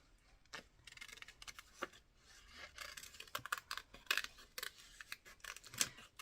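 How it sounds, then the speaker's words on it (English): Scissors snip out a paper frame in a gluebook, a run of close, crisp cuts with irregular rhythm, interspersed with quiet paper rustling, no talking. "I'll see what happens when I cut this frame"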